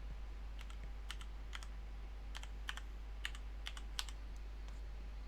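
Keys tapped on a computer keyboard while a file name is entered, a dozen or so quiet, crisp clicks in short irregular bursts over a steady low hum, no talking.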